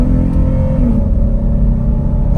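Toyota 4Runner fitted with an S&B Filters intake, engine running in a close, loud and steady low rumble with a slight rise in pitch partway through, no voices.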